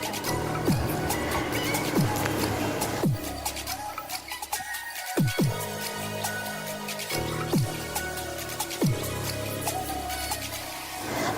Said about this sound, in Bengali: তো দেখো আমি তো ভালো করে চিকেনগুলোকে ধুয়ে নিচ্ছি।